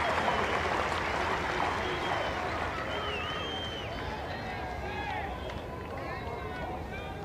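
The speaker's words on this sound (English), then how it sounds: "every run being greeted with a huge round of applause by this enthusiastic crowd" An enthusiastic cricket crowd at a South Africa versus England Test match in 1995 applauds a boundary four, a dense, sustained wash of clapping and cheering with a few whistles, slowly fading.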